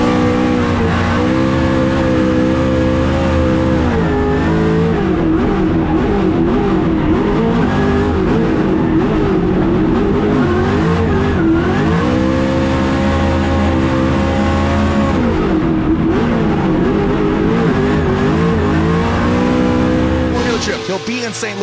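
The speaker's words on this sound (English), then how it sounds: "That Mustang RTR Spec 5 FD." A 1100 hp Ford Mustang RTR Spec 5 FD drift car roars loudly and close at the Goodwood Festival of Speed, its engine rising and falling through repeated revs and accelerations, with tire noise and voices mixed in.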